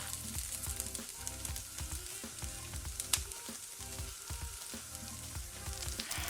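Korean pancakes fry in a hot pan with a steady, close sizzle and crackle throughout, a few brief spikes of spattering oil rising over the continuous hiss.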